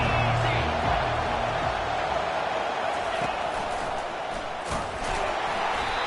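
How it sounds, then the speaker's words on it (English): Huge stadium crowd roaring at an Auburn versus Michigan college football game, a continuous loud wall of cheering and noise that barely dips, with an announcer talking over it. "this crowd is tearing the lid off this place"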